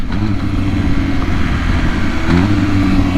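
A 2021 MV Agusta Rush motorcycle with a flash-tuned ECU idles at low RPM, a steady, close, smooth engine drone with a gentle even pulse and no talking.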